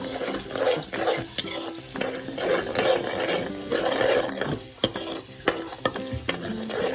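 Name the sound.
four eggs poured into pan, frying and stirring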